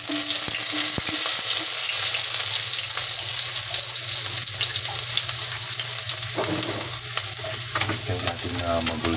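Garlic frying in oil in a pan for Filipino fried rice (sinangag), a steady close sizzle with stirring scrapes throughout, loud and continuous with no voices.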